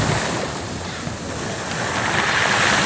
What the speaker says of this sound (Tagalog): Hindi po napipigilan ang mga malalaking alon po dito sa amin